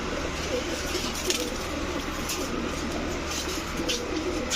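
Soft cooing from pairs of Pakistani high-flyer pigeons murmurs through a steady hiss of background noise, low and continuous with no clear talking.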